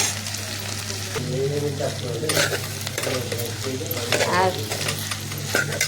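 Ivy gourd sizzles in oil in a pan while being stirred, a steady low frying hiss with a few scrapes and clinks, and a voice speaking softly over parts of it.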